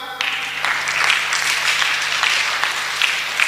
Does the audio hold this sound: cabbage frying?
no